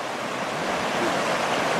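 Steady broadband rush of river water flowing at a family holiday spot, continuous and fairly loud with no talk over it.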